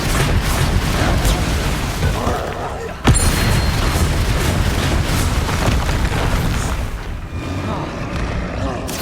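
Bombarda explosion spell in the Hogwarts Legacy video game, a sharp blast followed by a heavy rumbling boom and lingering debris, loud and close over dense battle noise.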